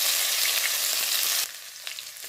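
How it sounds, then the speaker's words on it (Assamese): Panch phoron and ginger-garlic paste hitting hot oil in a pan: a loud, bright, close sizzle that drops abruptly partway through to a quieter, crackling fry with a few small pops. "তেলখিনি গৰম হোৱাত কেইটামান পাঁচফোৰণ দি লৈছোঁ। লগতে আদা নহৰু পেষ্টখিনি দি লৈছোঁ।"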